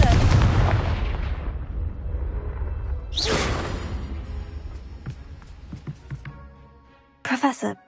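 A Confringo blasting spell goes off in Hogwarts Legacy, a loud explosive burst with a whooshing tail that slowly fades, followed by scattered smaller pops and a later sharp burst.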